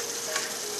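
Meat frying and browning in a covered saucepan, a dense, close, continuous sizzle with no voices.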